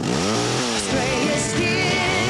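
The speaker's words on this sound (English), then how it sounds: "Australia's #1 selling chainsaws are now even easier to use." A Stihl chainsaw with an Easy Start system, shown in a TV advert, runs with a loud, continuous engine drone, rising and falling in pitch as it revs.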